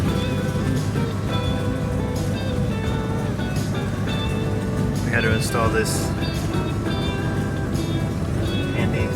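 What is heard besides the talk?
exhaust leak on a carbureted Mercedes 450SL R107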